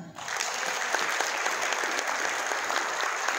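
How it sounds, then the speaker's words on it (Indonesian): An audience applauds at a health talk, a dense, steady clatter of many hands clapping together for several seconds, fairly close and with no voices over it. "Boleh dong tepuk tangan."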